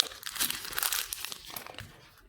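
Quick crinkling and tearing of packaging as a URBN 10000 mAh 22.5 W power bank box is opened, a close burst of rustles that fades out after about two seconds.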